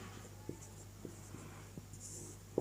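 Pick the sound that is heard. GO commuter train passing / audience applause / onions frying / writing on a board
writing on a board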